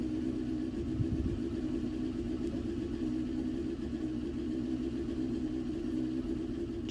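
A 954 motorcycle engine idles with a steady, low, even rumble that stays close and constant throughout. No one speaks.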